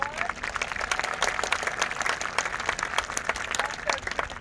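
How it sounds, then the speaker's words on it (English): Applause for cheerleaders at a university event, a crowd clapping steadily and densely throughout with dense overlapping hand claps, loud and continuous with no voices on top. "Let's give them a big round of applause."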